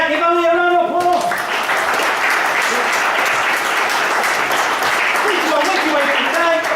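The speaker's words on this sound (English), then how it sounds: "give Ellie a round of applause." A crowd breaks into loud, steady applause that fills the room, with a short stretch of music-like tones at the start and voices mixed in.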